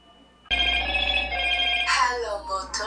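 A telephone suddenly starts ringing after a short quiet lead-in, giving a loud, sustained electronic ring with a low hum beneath it. A voice briefly overlaps the ring near the end.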